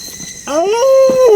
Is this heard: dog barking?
yes